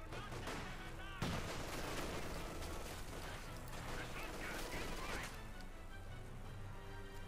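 Dense, continuous gunfire and explosive crashes from a Company of Heroes 2 1v1 match with snipers in play, loud and sustained with a sharp burst near the second mark and volleys layered throughout.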